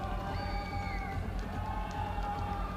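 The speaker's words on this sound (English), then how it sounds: "Big shouts from the crowd below" A crowd below shouts and cheers during the lead finals of the 2020 UIAA Ice Climbing World Cup in Cheongsong, South Korea, a steady roaring swell of many voices with whoops rising over it throughout.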